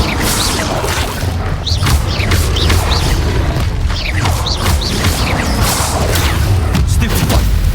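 Incendio fire spells blast repeatedly in the game Hogwarts Legacy, loud booming bursts with whooshing, crackling flares coming in quick succession over a constant rumbling battle din.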